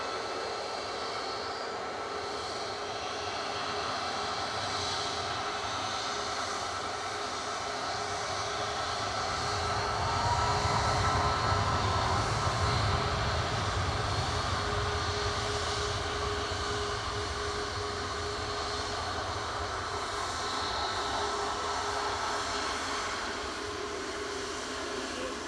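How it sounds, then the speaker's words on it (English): A Ryanair Boeing 737 Max 8-200 departs Manchester Airport, its engine roar rising from a steady distant rumble to a louder, broad swell and then holding. "So the Max 8 200's going first, heading back over to Krakow."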